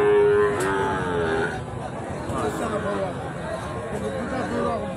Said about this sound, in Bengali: এটাও শাহিওয়ালের বেশ ভালো একটা পার্সোনাল গরু